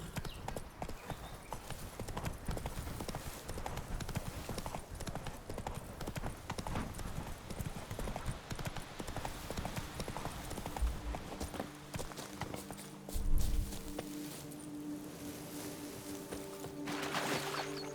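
Rapid hoofbeats of a galloping horse in The Witcher 3: Wild Hunt, pounding continuously, with game ambience behind; the rhythm slows near the end.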